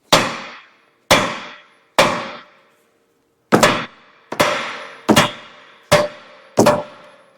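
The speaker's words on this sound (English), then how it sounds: "I'll give it a few whacks here with the hammer, and it'll just fall out whenever it releases." Hammer whacks against a steering component on the front end of a Chevy/GMC 2500 Duramax truck, eight loud, sharp metallic strikes with ringing decay, spaced roughly a second apart with one longer pause, no talk.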